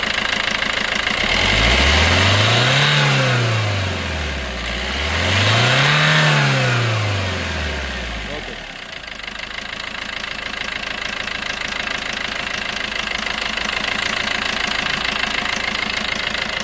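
A 2015 Maruti Ertiga ZDi diesel engine revs twice in rising and falling sweeps, then settles into a steady, close, loud idle with a knocking diesel clatter.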